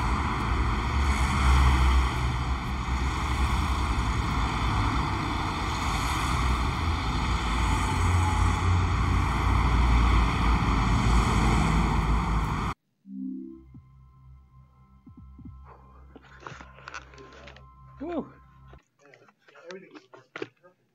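A blower ventilating a manhole before a gas retest runs with a loud, steady droning hum and strong tonal whine, then cuts off abruptly, followed by voices and clatter.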